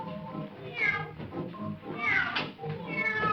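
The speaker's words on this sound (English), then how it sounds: "The cat came out too soon." A cat meows several times on a live 1950 children's television variety stage, its clear, rising and falling cries loud and close with a faint voice underneath.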